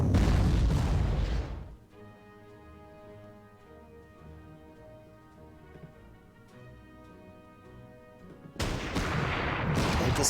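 Artillery fire in the Panzer Corps WWII strategy game: loud, dense booming blasts at the start and again at the end, with a quiet, humming background stretch between them.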